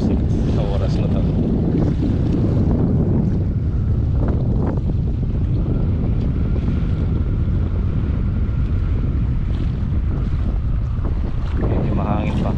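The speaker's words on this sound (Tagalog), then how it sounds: "Medyo mahangin pa." Steady, roaring wind buffets the microphone throughout, a dense low rumble with no letup.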